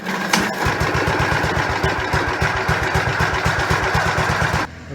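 A Gravely tractor engine, pull-started with a wound rope, sputters into a fast steady chugging run for several seconds, loud and close, then cuts off abruptly.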